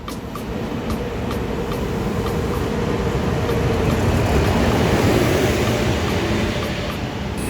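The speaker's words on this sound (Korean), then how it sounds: "여수 엑스포 가는 10시 33분 지금 오는 열차 다음 열차를 타면 될 것 같아요" A train rolls into a station platform on the line toward Yeosu Expo, a steady loud rumble of wheels and rail noise swelling slightly toward the middle and easing off near the end, with no talk.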